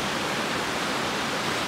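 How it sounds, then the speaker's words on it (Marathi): Hemnagar village waterfall near Alibag: a dense, continuous rush of falling water, loud and close, with no break or change. "आणि हा मध्ये आमच्या हेमनगर गावचा धबधबा"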